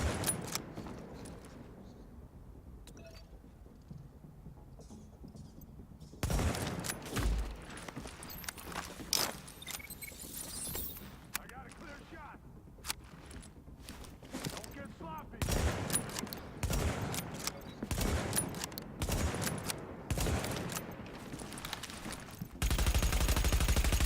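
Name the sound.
DMR rifle gunfire in the video game The Division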